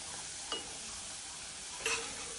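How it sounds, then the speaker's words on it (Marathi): French fries frying in hot oil while a slotted spoon turns them over, a steady soft sizzle with two brief scraping stirs standing out. "झाऱ्या घेते आणि थोडं वर खाली करायचं तुला. हे बघा, असे काप वर खाली करायचे."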